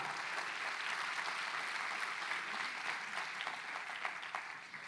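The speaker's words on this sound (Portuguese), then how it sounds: "Você pode honrar a palavra de Deus com uma salva de palmas nesse lugar?" A church audience gives a continuous round of applause, an even wash of many hands clapping at moderate distance, steady and unbroken from start to finish.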